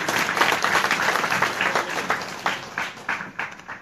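Crowd at a live devotional jagran clapping in a loud burst that thins toward the end into scattered, separate claps.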